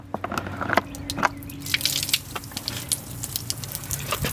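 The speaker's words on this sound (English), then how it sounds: "I gotta let the water out of the cooler" Water drains out of an Igloo BMX 72 quart cooler, starting with scattered drips and taps, then swelling into a steady splashing gush onto the ground, close by and without talk.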